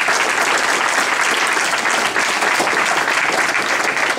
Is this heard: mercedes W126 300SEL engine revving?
no